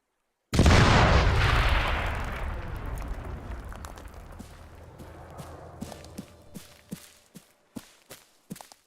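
Explosive charges detonate in the military game Arma 3. One loud, deep blast opens and rumbles down over several seconds, then sharp crackling pops of debris follow at intervals.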